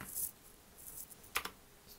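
A few quiet key presses on a computer keyboard during a PowerPoint lecture, with a small cluster of clicks near the middle over soft background hiss.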